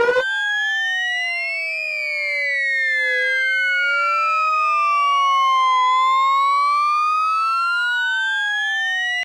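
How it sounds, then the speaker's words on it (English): A synthesized siren made with a flanger at full feedback in the Vital synth, sweeping tones gliding slowly up and down, loud and steady on their own for about nine seconds. "Now if you want to make a siren sound out of this, you can use this flanger here."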